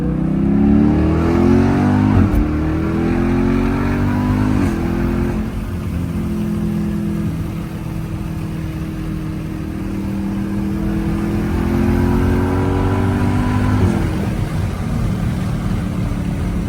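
A Jeep SRT engine pulls hard in third gear on a night drive, its deep exhaust roar loud and continuous from inside the cabin, rising in pitch through the gear and easing slightly before climbing again.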